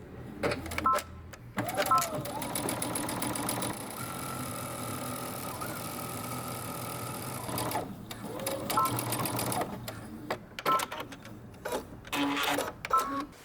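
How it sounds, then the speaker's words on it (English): A sewing machine stitches across a dress hem in several long runs, whirring steadily between short starts and stops, with someone talking in the pauses. "I'm going to stitch across my hem, leaving 1 inch from the edge of my fabric to where my needle is"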